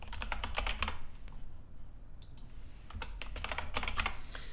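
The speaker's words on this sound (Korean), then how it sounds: "그럼 저는 제가 보통 쓰는 비밀번호를 입력할게요." Typing a password on a computer keyboard, close crisp key clicks in quick uneven bursts with a short pause midway, no talking.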